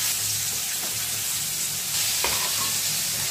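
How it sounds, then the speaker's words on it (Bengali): Pieces of fish fry in a hot pan with a steady, close crackling sizzle that holds throughout, with a faint stir or scrape near the end and no talking. "আবার এখানে 3 পিস মাছ যেটা আছে সেটা ভাজতে বসিয়ে দিচ্ছি।"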